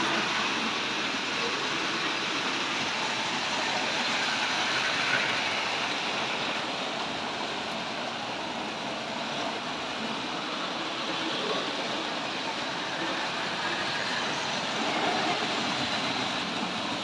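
Tri-ang model railway train running steadily on track, a continuous near rumble and whirr with no talk.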